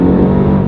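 A Mercedes-AMG GT R in Sport Plus mode with the exhaust open gives a brief, loud, steady engine and exhaust roar during hard acceleration.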